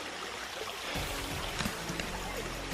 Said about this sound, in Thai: เราผ่านลำธารน้อยๆตรงนี้เลยครับ